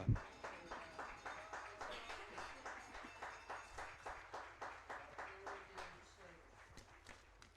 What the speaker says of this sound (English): let's have one more big round of applause for the Athletic Hall of Fame class of 2022